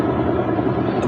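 A helicopter passes overhead at night, a steady, dense rotor-and-engine rumble that holds at an even loudness throughout, with no voices.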